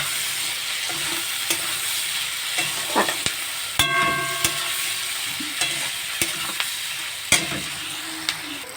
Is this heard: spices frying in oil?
yes